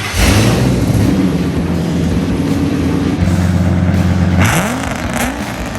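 A 7.3 diesel truck engine runs loud and close, holding a steady low drone before revving up and dropping back, then climbing again near the end.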